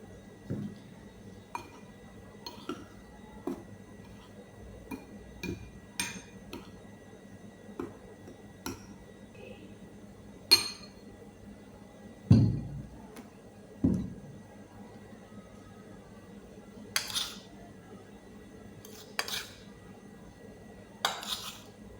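A spoon clinks against the inside of a cup while powdered milk is stirred into a young girl's drink, producing scattered light taps and ticks at an irregular pace.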